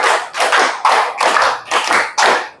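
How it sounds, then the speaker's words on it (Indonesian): A classroom group claps in a counted tepuk rhythm as an ice-breaker, six loud, sharp bursts of hand claps in a steady pattern with no talking. "Tepuk 1, tepuk 2, tepuk 4, tepuk 5. 2 kali tepuk 5."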